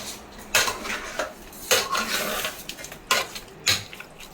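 Chicken pieces with rock salt being stirred in a pot, several sharp clattering scrapes of a utensil against metal in an irregular rhythm, close and fairly loud.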